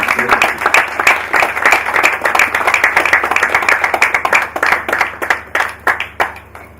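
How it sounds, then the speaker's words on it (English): A group claps steadily for several seconds, dense at first and then thinning into scattered claps as it fades out. "a round of applause"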